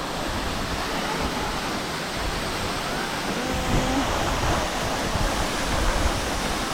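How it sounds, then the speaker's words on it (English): Temurun Waterfall in Langkawi, Malaysia, gives a dense, steady rushing roar of falling water. It is close and continuous, with slight swells and no voices. "Temurun Waterfall, which literally translates to heritage for how old it is."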